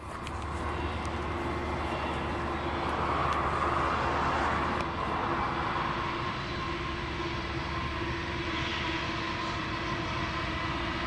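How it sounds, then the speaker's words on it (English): A train rolls past at a distance, a steady broad rumble and hiss that swells gently in the middle and stays constant throughout. "Here comes a train."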